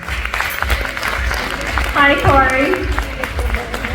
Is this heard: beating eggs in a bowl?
no